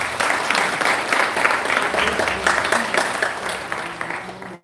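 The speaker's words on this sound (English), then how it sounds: "Let us give her a big round of applause." Sustained, loud applause from an audience for the Carnatic singer Sangeetha at a Sri Ramana Bhagavan advent day celebration, dense clapping that gradually tapers near the end.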